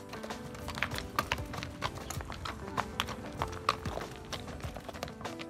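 Horses walking at a farm estate, their hooves clip-clopping in an irregular, fairly close rhythm over the whole stretch.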